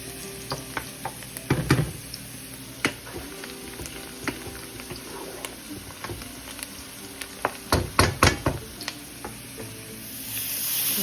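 Spices sautéed with lightly fried onions in a hot pan, a constant sizzle broken by repeated scraping stirs, with clusters of louder strokes near the start and toward the end.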